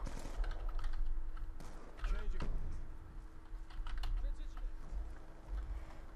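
Fast keystrokes clatter on a new computer keyboard, close and fairly quiet, in irregular bursts with short gaps during a Black Ops 2 gaming session, and a voice talks intermittently over the typing.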